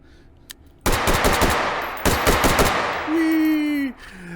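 Loud, close automatic gunfire in the VR shooter H3VR, with two rapid bursts of machine-gun shots about a second apart, followed by a whooshing, tonal effect.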